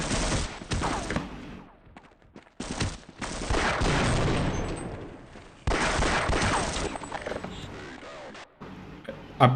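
Gunfire in the first-person shooter game Half-Life: loud, rapid bursts of shots come in several separate volleys broken by short pauses, with faint voices and mechanical clanks in between.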